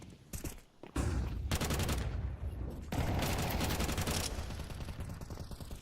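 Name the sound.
FAMAS rifle gunfire in Counter-Strike video game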